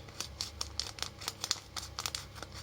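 Rapid, crisp snipping and crinkling of dull scissors working through soft gauze dressing, a quick irregular series of close cuts.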